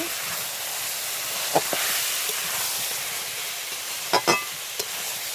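Chicken curry with tomato and slit green chilies sizzles in a pan, a steady hiss running throughout with a few brief clinks and stirring knocks near the end.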